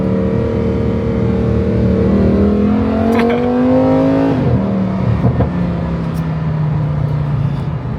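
Close and loud, a rear-engined supercar's engine revs in China, its pitch climbing steadily for several seconds before dropping off and settling into a lower, rougher drone.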